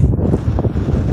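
Strong wind gusting across a hilltop farm, a loud, continuous rumbling roar of buffeting against the microphone with no break and no talking.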